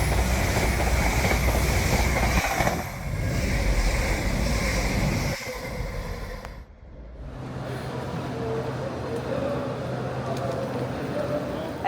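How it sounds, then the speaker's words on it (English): Northern Class 158 diesel train running on rails from Newcastle along the Northumberland Line, a loud continuous rumble and rattle of wheels with a brief dip, as someone talks over it. "I'm going to take a little train ride with Northern trains from Newcastle through to Ashington on one of their Class 158"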